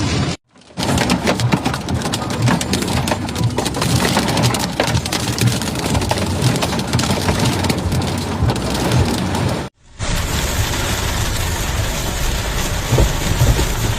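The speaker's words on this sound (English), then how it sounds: "Heavy rain significantly reduced visibility for drivers, significantly slowing traffic." Heavy rain pours during a violent storm, a dense continuous hiss of drops hitting surfaces, loud and close, broken once by a brief cut before resuming with the same steady roar.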